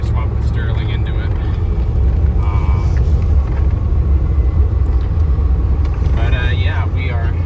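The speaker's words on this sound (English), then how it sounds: "This is just cruising along in fourth gear." A 1993 Ford F-150 pickup with a swapped engine cruises in fourth gear, a loud continuous low engine rumble and road drone heard from inside the cab, with a person talking over it.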